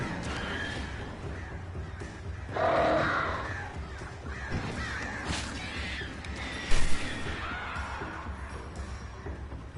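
Crows caw in the dark world of the video game Alan Wake, harsh calls scattered across a murky, rumbling game ambience, with one louder burst standing out midway.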